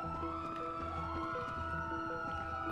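Police car sirens wail in GTA V, layered electronic tones rising and falling steadily at moderate loudness with no talk.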